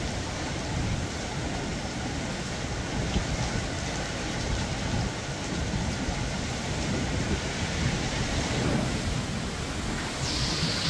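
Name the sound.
heavy typhoon rain with thunder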